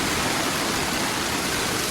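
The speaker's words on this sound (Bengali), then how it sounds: "শুরু হয়ে গেল বৃষ্টি" Steady, dense rain pours down with no breaks, filling the air with a continuous close hiss that stays even in loudness throughout, with no voices heard.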